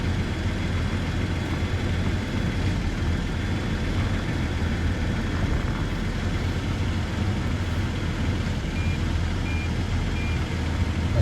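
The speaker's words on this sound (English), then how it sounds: "Got the system beeping, yelling at me, telling me I'm close to something." Toyota Tacoma parking sensor beeping steadily while the truck reverses out of a driveway, thin repeated tones sitting over a constant low engine rumble.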